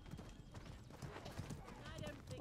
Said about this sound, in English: I'm gonna be hearing these horse hooves in my nightmares tonight